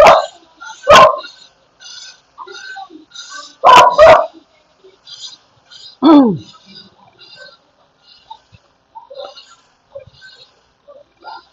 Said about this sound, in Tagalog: May aso dyan eh.